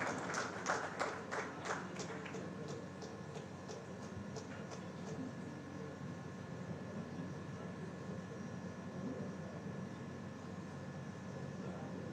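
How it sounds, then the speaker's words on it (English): Applause for the guest of honor at the 28th convocation of Dhruva College of Management. A burst of sharp clapping at the start settles into a steady, fairly distant wash of crowd applause that holds evenly to the end. "A huge round of applause for our guest of honor."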